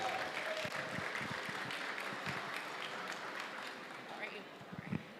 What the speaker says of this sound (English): a big round of applause for the city of Weslaco and our mayor, Adrian Gonzalez